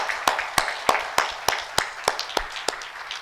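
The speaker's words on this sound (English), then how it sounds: "Please give a grand applause for the international speakers." Applause for international speakers at a gathering, heard as about ten sharp, evenly spaced claps at a steady rhythm, sounding like only a few people clapping, moderately loud with no talk.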